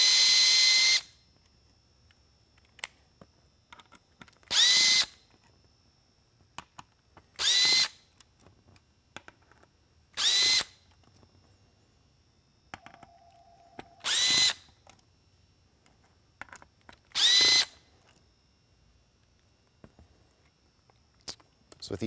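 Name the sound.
removing Phillips screws from a Whelen M7 lighthead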